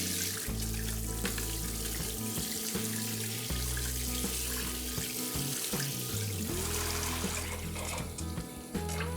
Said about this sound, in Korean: 이제 메인보드를 세면대로 가져와 뜨거운 물로 뿌려주시고